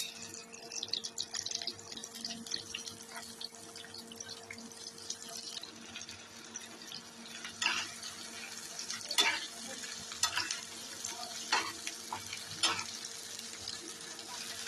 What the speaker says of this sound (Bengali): একটু লাল লাল হয়ে আসলে তার মধ্যে দিয়ে দেবো কুচানো পেঁয়াজ। দিয়ে দিচ্ছি কুচনো পেঁয়াজ।